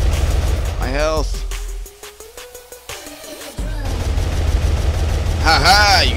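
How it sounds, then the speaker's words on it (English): Rapid gunfire crackles in the cartoonish multiplayer shooter Gunheim, bursts of shots clattering loudly alongside engine hum and chirpy game effects, with a calmer pause of scattered pops in the middle. "Keep shooting."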